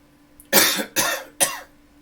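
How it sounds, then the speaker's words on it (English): Three strong coughs in quick succession, close and loud, each a sharp burst with a short pause between. "cough fully, 2 to 3 coughs, uninterrupted"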